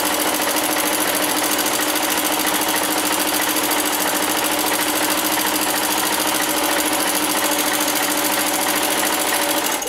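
A sewing machine runs steadily through quilted fabric while a cover is made, a continuous loud mechanical whir with dense rapid stitching texture and no pauses throughout.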